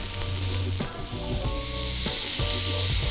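Buttered steak for a Crying Tiger dinner searing in a hot pan: a steady, close sizzle and spatter, broken every so often by the clatter and flare of the meat being flipped.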